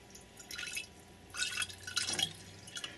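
Liquid dripping as food liquid is poured out and left to separate, a few soft, close drips and splashes in quick irregular bursts against near silence.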